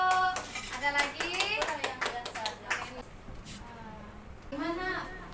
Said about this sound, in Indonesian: Bagus, tepuk tangan Bu.